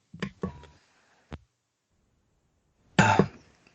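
Several short, sharp coughs close by: a quick pair, a single cough after a pause, then a heavier cough after a longer silence.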